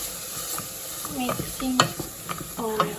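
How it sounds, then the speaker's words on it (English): A spoon stirs onion in a cooking pot for chilli, giving soft scraping strokes over a light sizzle, close and fairly quiet, with occasional sharper knocks against the pot. "mixing onion"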